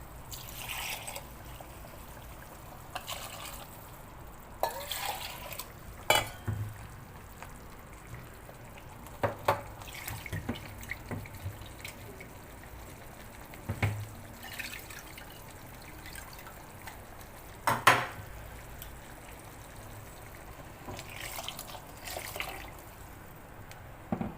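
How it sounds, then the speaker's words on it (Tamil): Soft trickling and dripping of water being added to ground masala for an anchovy curry, with scattered small splashes and clinks, quiet and intermittent against a low background hum. "நம்ம தேவைக்கேற்ப தண்ணி கலந்துக்கலாம்"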